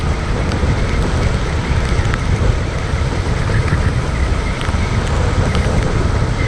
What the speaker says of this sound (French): Je vais passer mon temps avec le vent.